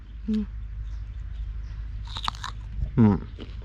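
Someone bites into a crisp fresh date fruit in an orchard, giving a few close, sharp crunches and chewing sounds between brief bits of nearby speech.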